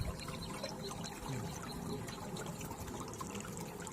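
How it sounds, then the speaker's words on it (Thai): Steady rushing and trickling of flowing water, continuous and fairly close, with no voices. "ได้ยินเสียงน้ำมันไหลไหมครับ"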